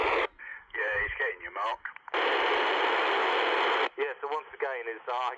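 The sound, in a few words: CB radio transmission received on the radio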